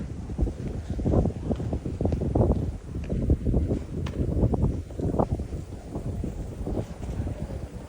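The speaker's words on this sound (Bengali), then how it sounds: "বাতাসের শব্দ হচ্ছে।" Wind blows outdoors past flowers on a residential street, buffeting the microphone with a continuous gusty low rumble that rises and falls throughout.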